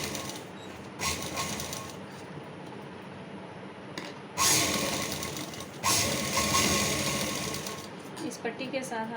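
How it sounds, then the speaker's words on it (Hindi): Sewing machine stitching buckram strips for a child's kurta in a boutique workroom, running in bursts of whirring with short pauses and a louder stretch near the middle. "अब हम इसको दूसरी पट्टी के ऊपर रखने के बाद यहाँ से सिलाई शुरू करेंगे"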